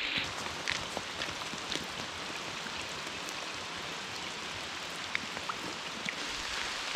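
Steady rain falls through a forest on a wet-weather hike, a dense even hiss with scattered louder drips and drops landing close by throughout, no voices.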